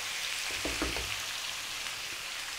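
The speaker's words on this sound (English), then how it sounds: "We're now going to drop in that onion. I'm using red, as you can see." Red onion frying in a pan for chicken curry: a dense, steady hiss of sizzling oil with a brief clatter near the start, close and without voices.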